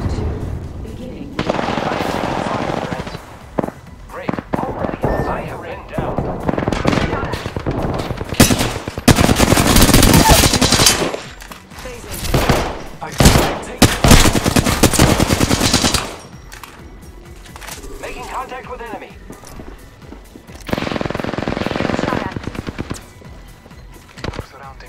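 Rapid automatic gunfire and explosions from an Apex Legends match erupt in loud bursts, with dense stretches of firing broken by brief quieter pauses and occasional heavier blasts.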